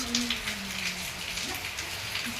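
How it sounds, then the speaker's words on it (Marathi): Heavy rain pouring down outdoors, a steady dense hiss of falling drops nearby, with faint vocal sounds in the background. "हे बघा किती जोराचा पाऊस आला आताच"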